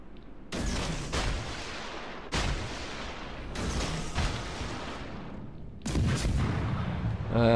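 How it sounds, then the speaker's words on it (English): Warship guns fire in a naval video game: heavy booming salvos roughly every one to two seconds, each rolling off into a long decaying rumble, loud and close. "And start firing the guns also."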